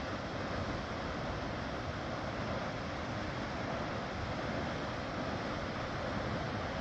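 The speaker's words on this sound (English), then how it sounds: "this one's a really cool waterfall" Ebor Falls waterfall in New South Wales roars as a steady, dense rush of falling water heard from a viewing platform, loud and unbroken throughout.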